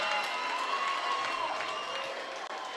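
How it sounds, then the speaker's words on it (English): A football stadium crowd at the Highclimber Stadium cheers and applauds after a touchdown, a fairly faint, steady wash of distant noise lasting the whole moment. "Crowd likes it here in the Highclimber Stadium."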